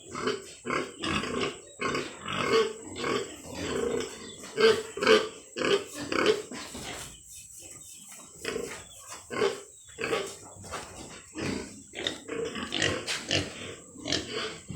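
Pregnant sows grunt repeatedly in short, irregular bursts, close by, with scattered snorts and a steady high hiss in the background.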